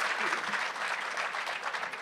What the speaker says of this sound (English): a round of applause for Manish.